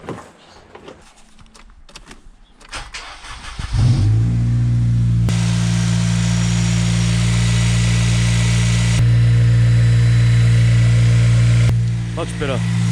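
A project car's engine fires after a few seconds of clicking and handling noises, then settles into a loud, steady running note with a brief rise in revs midway and a short tail of activity at the end.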